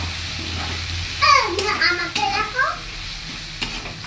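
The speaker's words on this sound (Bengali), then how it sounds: "একটু ভাজা হচ্ছে" Potatoes and onions frying in a pan with turmeric, a soft sizzle under scraping stirs and spoon clatter, with a few sharp knocks and a voice faintly in the background.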